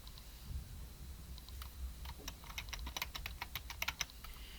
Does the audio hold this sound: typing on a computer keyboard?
yes